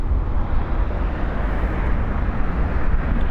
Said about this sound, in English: It's also got some upgraded pipes. I'm not sure the make of them, but I'll tell you right now, they're loud.